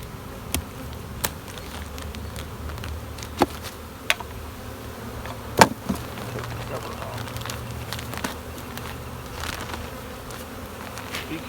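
Bees buzz continuously around overwintered nucs outdoors, a steady close hum broken by occasional sharp clicks and knocks, with speech now and then.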